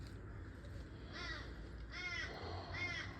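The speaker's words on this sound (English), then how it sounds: "the crows are back" Crows caw outdoors in three distinct, fairly faint calls spaced about a second apart, over a low background rumble.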